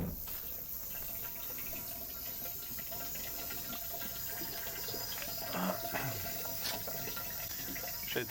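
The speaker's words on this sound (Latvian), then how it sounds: "Es jau pildu kāds 3 minūtes. Tas krāns jātur visu laiku." Water runs steadily from a tap into a 25-litre container, a faint continuous splash and gurgle with outdoor background, no voices.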